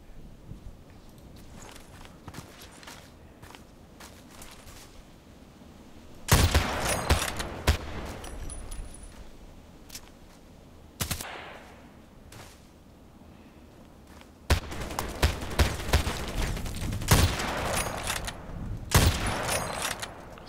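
Long-range sniper rifle shots with an AWM-F in the Contract Wars video game: a few loud, separated bursts with rumbling tails over quiet background noise, including light footsteps.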